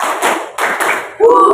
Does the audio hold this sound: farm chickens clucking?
no